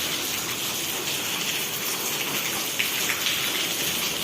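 Cyclone Jawad brings heavy, steady rain, a dense unbroken hiss of drops falling on surfaces, with a few slightly sharper splashes near the end.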